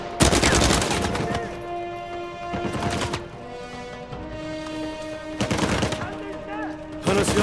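Gunfire in Uncharted 4: A Thief's End: loud repeated bursts of automatic fire crack over a sustained musical score, with several clusters of shots spread across the stretch and a tonal backdrop between them.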